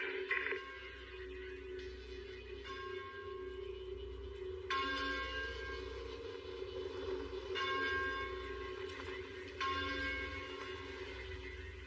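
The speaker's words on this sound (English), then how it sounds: "Is that a church bell?" A church bell rings steadily, its bright tones struck again and again over a low rumbling background, fairly loud and sustained.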